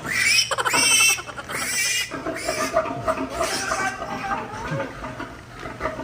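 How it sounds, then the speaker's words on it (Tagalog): Large female pig on a farm in Calaca, grunting and squealing loudly up close, with voices chattering in the background. "Ang laki ng baboy."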